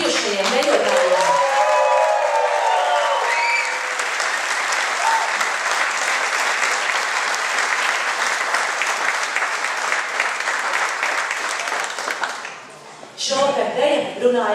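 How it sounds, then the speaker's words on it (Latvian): A concert audience applauds former dancers at the 25th anniversary concert of a folk dance group. The loud, dense applause is sustained and mixed with crowd voices, then dips briefly before a final burst. "Vēlreiz skaļi aplausi bijušajiem dejotājiem."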